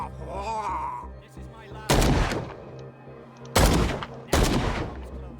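Three loud, sharp gunshots from a handgun in the Call of Cthulhu game ring out over a low ambient drone, spaced unevenly with a brief voice-like murmur before the first.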